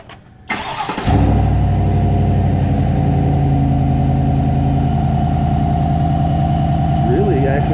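A Chevrolet Silverado 6.2-litre V8 fitted with a RotoFab cold air intake cranks briefly, catches and settles into a loud, steady idle that carries on close up.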